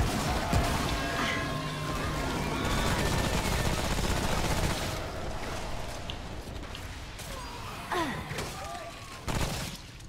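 Gunfire in the video game Remnant: From the Ashes during a subway fight, dense bursts of shots layered with loud game effects and creature noises, continuous throughout with a few sharper hits near the end.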